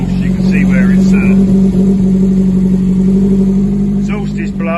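A Sunbeam Rapier fastback's engine idles steadily with a blown exhaust, a constant droning hum, loud and close, while a voice talks over it.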